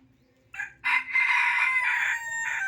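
A Texas-breed rooster crows once, a loud, drawn-out cock-a-doodle-doo close by, opening with short notes before a sustained call, with no talk over it.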